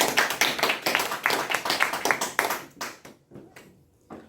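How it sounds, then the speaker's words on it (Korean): An audience at a lecture on poetry and the independence movement claps along in a steady, even rhythm for close to three seconds, then the clapping thins out into a few scattered claps. "그럼 박수 한번 쳐보세요."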